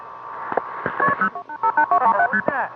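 Touch-tone telephone dialing tones come through a phone conference line as a quick run of distinct beeps, preceded by a few clicks and ending in a short warbling chirp, clear and fairly loud.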